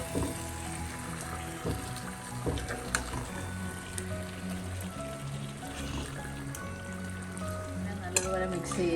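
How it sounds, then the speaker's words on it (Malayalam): Chicken with masala powder sizzles and fries in a pan for a gravy chicken curry, with steady frying hiss and occasional stirring scrapes throughout, fairly faint and close. "ഈ സമയം നമുക്ക് മസാലപ്പൊടി ചിക്കൻ ചേർക്കാം."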